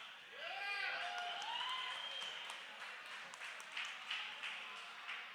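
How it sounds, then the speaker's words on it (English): An audience applauds Jerry Lopez at an event in San Juan, with a sustained wash of clapping, some whoops and voices mixed in, the applause holding steady to the end. "Give him a round of applause."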